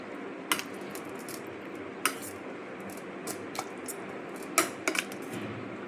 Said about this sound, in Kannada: ಇವಾಗ ಇದನ್ನು ಈ ರೀತಿಯಾಗಿ ಮ್ಯಾಶ್ ಮಾಡ್ಕೊಳ್ಬೇಕು